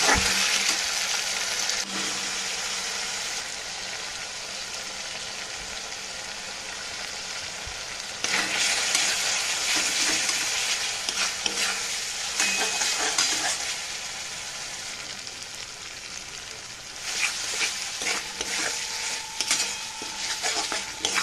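Green chilli, garlic and ginger paste with spices fry in a pan for a paneer dish, giving a continuous close sizzle with repeated spatula stirs and scrapes that grow busier at intervals.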